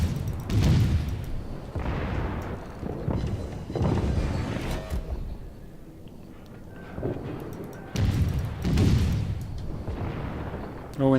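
Naval guns fire salvo after salvo from a Tier 3 warship in World of Warships, heavy booming blasts arriving in a slow rhythm about every two seconds, loud and close, with a voice talking over them.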